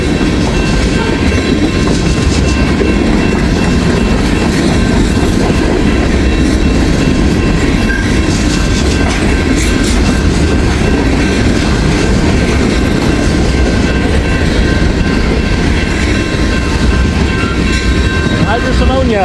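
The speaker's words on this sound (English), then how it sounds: "This is a big train." Long freight train of tanker cars carrying propylene oxide and anhydrous ammonia rolling past close by, a loud continuous rumble with rhythmic clatter of wheels on rail joints. A faint voice is heard underneath.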